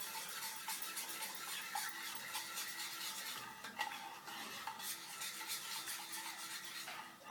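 Gelatin sheets being stirred into a panna cotta mixture off the heat; a spoon or whisk scrapes and swirls continuously against the pot, faint and close, with small clinks.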